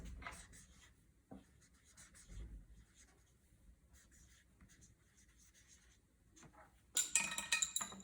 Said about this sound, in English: Let me draw another line.